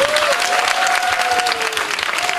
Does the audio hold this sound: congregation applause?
yes